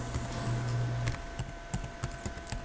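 Quiet, close keystrokes tap on a computer keyboard while typing into a Word document, first a quick run of presses and then separate clicks in an uneven rhythm, with no voices.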